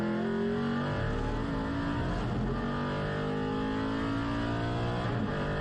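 A naturally aspirated 4.7 litre V8 race car engine pulls hard under power onto a straight at Aragon, a loud, steady, deep onboard rumble with rising harmonics and no pauses.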